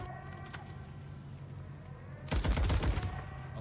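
Turret gunfire from the Call of Duty MW3 video game erupts as a loud burst of rapid shots near the end, following a steadier stretch of engine-like background rumble.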